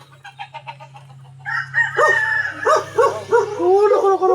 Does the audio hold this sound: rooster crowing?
yes